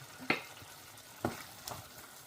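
Shakshuka with duck and quail eggs cooks in a pan, a soft continuous sizzle with two or three brief louder scrapes or crackles close by, no voices.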